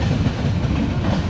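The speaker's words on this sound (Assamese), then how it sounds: "এইখিনিতে ট্ৰেইন দেখিছোঁ এখন" Indian Railways train rolling past nearby, a loud, continuous low rumble with a faint rhythmic rattle of wheels on track, and nobody speaking.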